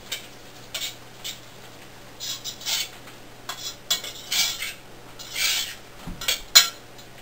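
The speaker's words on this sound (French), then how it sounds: "Et je mélange." Pasta being mixed with pesto in a pot, heard as scattered soft scrapes and clinks of a utensil against the metal, irregular and close, with a louder clatter near the end and no talk.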